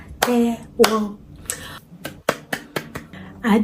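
Sharp hand claps, several in a row and close by, make up a simple clapping gesture during a children's Yoruba lesson, with a short voiced sound near the start and the claps spaced unevenly.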